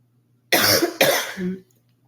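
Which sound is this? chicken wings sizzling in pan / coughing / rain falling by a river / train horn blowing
coughing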